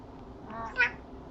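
A pet cat gives a single short meow partway through, rising sharply and fairly close, over a quiet room background with no talking.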